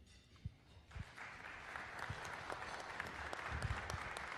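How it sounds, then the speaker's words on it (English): An audience claps at a city council and mayoral candidate forum in St. George and Washington City. The applause starts with a few scattered claps, then builds into steady, moderately distant clapping from a room of people. "if I could ask that we would just keep the applause until the end"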